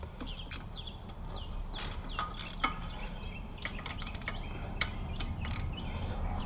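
Ratchet loosening radiator bolts on a Polaris RZR 800 in a crisscross pattern, heard as irregular clicking bursts and sharp metallic cracks over faint background noise, close by, with no voices.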